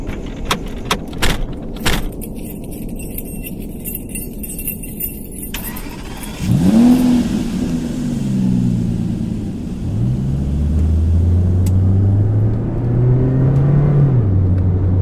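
Keys jangle inside a car, then the ignition fires, the engine catches and settles into a steady idle, and it builds into a rising rumble as the car pulls away and accelerates, loud and up close.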